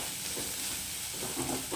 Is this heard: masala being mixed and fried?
yes